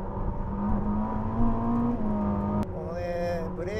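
A Ferrari SF90 Stradale engine in Performance mode pulls hard with a steady rising drone, then the pitch drops sharply at an upshift and the revs climb again.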